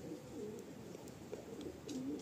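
Pigeons of the Madrasi breed coo softly in a loft, a few low rolling calls rising over a quiet background hum, with a faint chirp or two.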